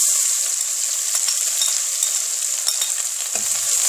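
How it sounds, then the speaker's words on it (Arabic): Onions frying in a pan for Lebanese kabsa, a loud, dense, continuous hiss of oil close by, with a few faint clinks beneath it. "وهلا انا رح اضيف فوقهم البصل"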